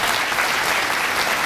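An audience at a leadership forum event breaks into steady, dense applause that stays loud and even throughout.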